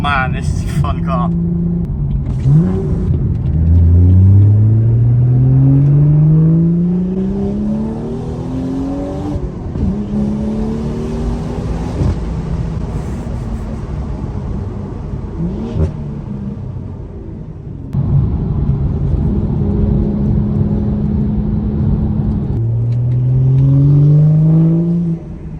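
A BMW with a B58 engine, Eventury intake and aftermarket exhaust, pulls hard through several gears: loud, close engine notes rise in pitch, drop at each shift, then climb again.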